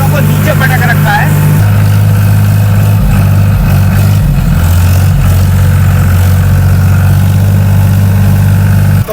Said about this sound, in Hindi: ये ट्रैक्टर आप देखो चालू करके छोड़ दिया है